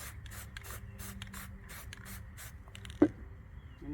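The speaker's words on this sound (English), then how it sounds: "spray my tan on my sponge" Tan spray paint is sprayed onto a sponge for painting a rifle: a series of short, sharp aerosol bursts in an uneven rhythm, close and fairly quiet, followed by a single soft tap.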